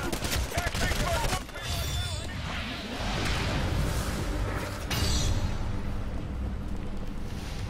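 Rapid automatic gunfire from the auto gun in the Titanfall beta, a dense, loud burst of shots and game effects running almost nonstop, with a louder surge near the end.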